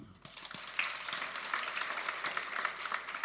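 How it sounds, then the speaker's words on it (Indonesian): A church congregation applauds during a sermon, producing a quiet, even spread of clapping that swells after a brief pause and continues steadily, heard from a distance. "Anda boleh tepuk tangan."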